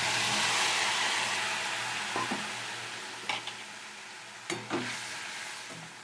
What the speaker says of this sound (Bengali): দিয়ে দিচ্ছি টমেটো আর কাঁচা লঙ্কার পেস্টটা